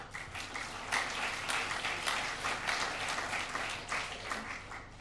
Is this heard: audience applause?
yes